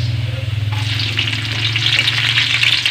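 Onions fry in a pan with a bright, crackling sizzle that swells after a moment, alongside a low rhythmic hum near the cooking.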